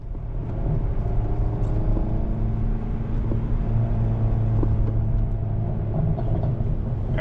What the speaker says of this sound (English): All right, we got the car started.